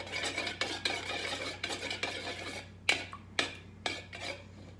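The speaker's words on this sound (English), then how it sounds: "You want to mix each ingredient as you put it in the bowl" A spoon or spatula stirs monster cookie ingredients in a bowl, giving repeated thick scraping strokes with sharper knocks against the bowl toward the end and no talking.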